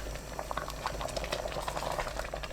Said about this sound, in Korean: 끓기 시작하면 굵은 소금 반 큰술 넣고 새알이 위로 떠오를 때까지 저어가며 끓여주세요.